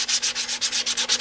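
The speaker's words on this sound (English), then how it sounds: "using some 220, some dry 220, just to make sure I don't have any spots" Dry 220-grit sandpaper rubbed over a plastic motorcycle part for an FZR restoration, a steady rhythmic back-and-forth scratching of about ten quick strokes, close and clear with no voices.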